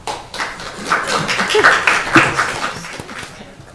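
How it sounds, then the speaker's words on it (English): A town council meeting audience claps for a speaker, a dense patter of hand claps rising and falling for several seconds, moderately loud and fairly near, with faint voices mixed in. "I'm not used to all the clapping."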